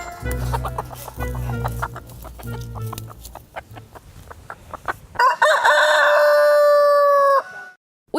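Hens cluck and rooster crows ring out on a farm, starting with overlapping close clucks and short calls, then one loud, drawn-out crow that ends abruptly.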